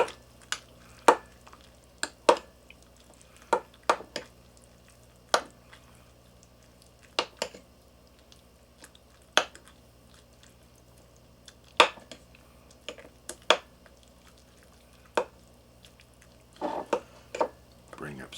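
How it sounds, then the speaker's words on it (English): Rehydrated freeze-dried chili with cheese being stirred in a jar, giving irregular clinks and wet squishing scrapes from a spoon that recur for about eighteen seconds, close and moderately loud. "Let's give this a mix."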